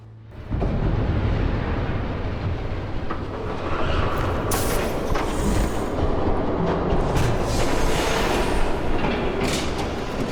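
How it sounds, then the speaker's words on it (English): An approaching train in a Batman video game rumbles in as a loud, steady roar with rattling clatter that builds and holds, with no talk over it. "There's a train coming."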